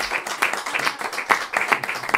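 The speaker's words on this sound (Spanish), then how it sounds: "merece ya el aplauso" Audience in a Madrid literary café applauds a speaker, a moderately close patter of hand claps with uneven bursts, loose and irregular rather than a rhythmic beat, continuing steadily with no talking.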